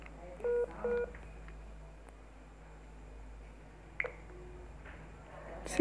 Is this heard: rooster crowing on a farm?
no